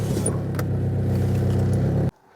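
A Mitsubishi Pajero Junior's small 1100 16-valve engine idles loudly and steadily up close at a scrapyard in Wales, then cuts off abruptly near the end, leaving near silence.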